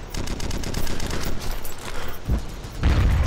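Gunfire in the online shooter Red Crucible Firestorm: rapid bursts of automatic fire crackle steadily throughout, with heavier booming shots landing near the end.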